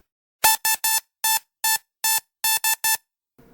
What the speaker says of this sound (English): The door buzzer.